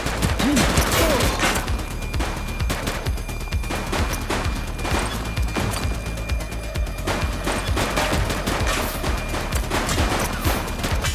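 Dense, continuous gunfire from a police shootout in the video game The Precinct, with rapid overlapping shots and bursts blasting loudly throughout without pause.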